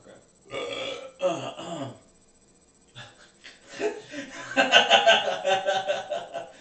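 Podcast hosts belching: a few deep, gurgling burps at the start, then chuckling and snickering laughter. All of it is close and fairly quiet.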